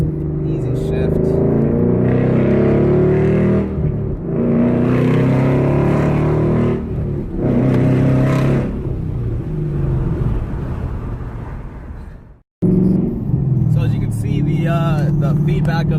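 A 2015 Ford Mustang GT with an aftermarket MGW shifter pulls hard through successive gears, its loud V8 rumble rising in strong bursts broken by short dips at each shift, then dropping off sharply near the end.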